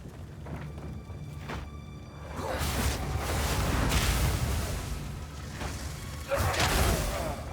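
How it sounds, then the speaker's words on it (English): Fiery explosions from a firebomb in the action RPG Path of Exile 2, heard as loud booming, rumbling bursts around 2.3 and 6.3 seconds over continuous game noise, with faint talk in the background. "There's the explosion."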